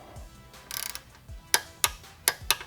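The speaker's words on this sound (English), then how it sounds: "I do have my torque wrench already set, so I'm just gonna go ahead and seat it" Torque wrench on a 2022+ Yamaha R7, tightening a Womet-Tech swingarm spool: a short ratcheting burst, then four sharp metallic clicks in uneven succession, close and fairly loud in a quiet workshop.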